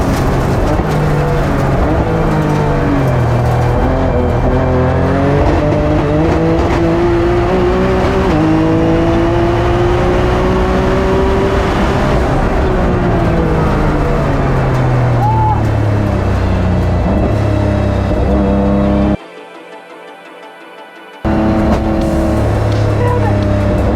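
Time attack race car lapping Buttonwillow Raceway, its engine loud and close throughout with rising and falling pitch through gear changes, cutting out briefly near the end before returning.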